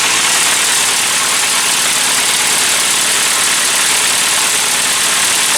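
A classic Mini 1293 race engine idles while warming up, with a loud, steady, close rumble and unbroken mid-range drone throughout, no voices.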